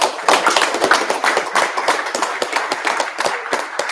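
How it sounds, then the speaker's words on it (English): A room full of people applauding at a National Honor Society ceremony, dense overlapping claps in a steady loud wash that keeps going throughout. "Once again, give yourself a round of applause."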